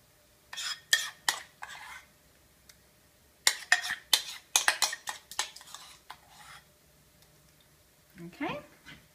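A spoon scrapes and taps as roasted eggplant and garlic dip is portioned into two serving bowls, with clusters of sharp clinks and scrapes close by and a voice briefly at the end.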